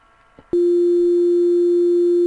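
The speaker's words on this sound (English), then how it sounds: "So operator 2 is just producing the sine wave." After a brief quiet moment, a loud, steady pure sine wave from a Sega Genesis FM synthesizer operator starts abruptly and holds unchanged to the end.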